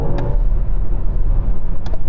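A BMW electric car in sport mode produces a synthetic driving sound, a low steady hum heard from inside the cabin under road rumble, with a couple of brief clicks and no talking.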